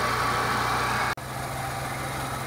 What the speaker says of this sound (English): the engine is running good so far